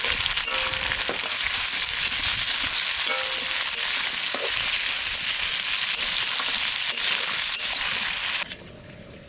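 Mutton and medium tomatoes frying hard in a pan, a loud, close, continuous sizzle with faint stirring knocks, cutting off abruptly near the end; no speech over it.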